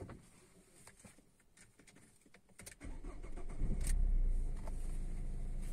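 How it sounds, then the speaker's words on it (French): A Renault Clio 3 dCi diesel cranks briefly and fires up nearby, then settles into a loud, steady rumbling idle after a few seconds of quiet, with faint birdsong in the background. "Comme vous voyez, je vais allumer le moteur."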